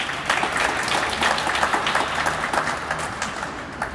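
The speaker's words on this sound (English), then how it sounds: "Let's give the City of Greenville and Greenville County a round of applause." At a ribbon-cutting event for a renovated downtown bus transfer center, an audience breaks into sustained applause, a dense, steady clatter of many hands lasting several seconds.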